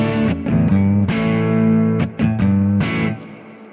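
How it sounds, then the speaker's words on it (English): Electric guitar played through a Strymon BigSky hall reverb, a few strummed chords ringing out with long, washy tails between strokes, loud and close with no talking. "as this particular reverb is a hall reverb, this is what your guitar would sound like"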